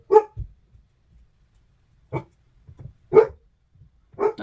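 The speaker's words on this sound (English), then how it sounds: "Dog's going crazy." A dog barks in a home during a makeup session, a handful of sharp, separate barks spaced over several seconds, fairly close and loud with quiet gaps between.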